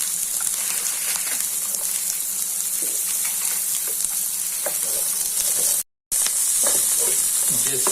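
Onion fries in about four tablespoons of oil with ginger and garlic for egg fried rice, a loud, dense and continuous sizzle close up, with faint stirring clicks and a brief dropout near the end.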